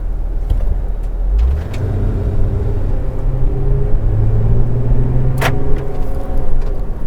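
A vehicle being weighed with a Curt BetterWeigh accelerates at mid pedal, its engine rising from idle into a steady, rising drone with a faint rumble and one short click, heard from inside without talk.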